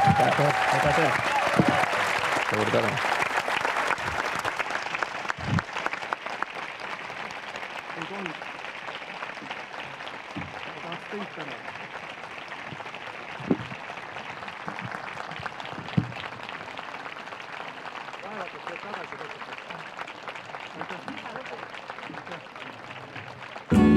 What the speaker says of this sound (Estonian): Teeme suure aplausi esinejatele